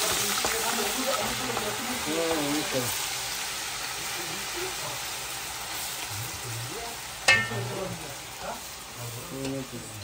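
Onions frying in hot oil in a home kitchen, with a steady sizzle under a woman's speech and a brief clatter of stirring partway through.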